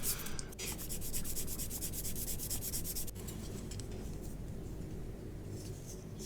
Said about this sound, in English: Just give them a light sanding. They're shallow enough to come out with a sanding stick.